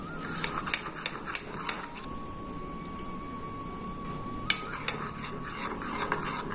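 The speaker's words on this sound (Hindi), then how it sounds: "अब इसे मैं थोड़ा सा पानी डालूंगी और इसे मिक्स कर लूंगी।" A spoon stirs a spice mix with water in a metal pan, with light scraping and several sharp clinks against the pan's side over a steady background hum.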